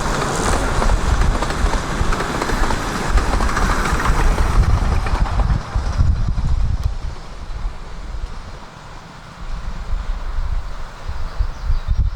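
Steam train with a diesel on the rear on the Ravenglass and Eskdale Railway rumbles past outdoors, a broad low roar of rolling stock under heavy wind noise, fading gradually as it moves away.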